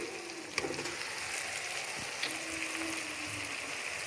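Roasted eggplant for baingan bharta stirred into softened ingredients in a hot pan, giving a steady close sizzle with a couple of sharp utensil clanks against the pan.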